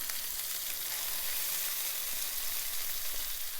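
Chicken fries in a pan with butter-flavored oil, giving a steady, dense sizzle that stays even and close throughout, with no voices.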